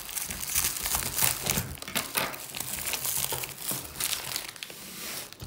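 Scissors cutting through plastic packaging of a dry ridge roofing kit: steady, close crinkling and crackling of plastic with small snips and tearing, no voices.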